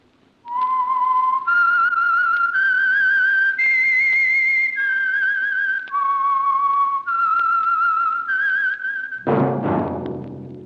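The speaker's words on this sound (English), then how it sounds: "That whistle is your signal for the Signal Oil Program" A clear, loud whistled theme tune from an old radio mystery program, sustained notes stepping up and down with vibrato, close and alone, ending in a brief burst of orchestral sound.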